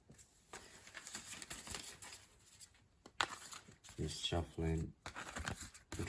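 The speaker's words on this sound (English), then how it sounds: "trying to shuffle in front of the camera" Tarot cards being shuffled by hand, with crisp papery riffles and slides arriving in uneven bursts up close and growing busier toward the end.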